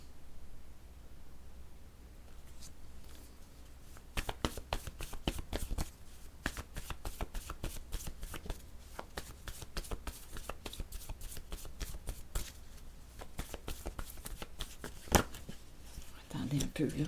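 A deck of cards being shuffled close up, quiet at first, then a rapid run of crisp riffling snaps and rustles that continues to the end.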